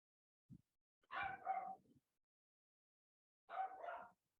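A dog barks in two quick pairs with a short yip before them, fairly quiet and at some distance, with silence in between.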